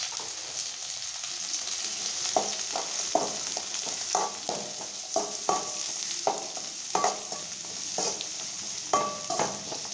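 Large onions frying in hot oil with cumin for an egg adai kuzhambu, a constant sizzle under frequent spatula scrapes and stirring knocks, close and steady throughout.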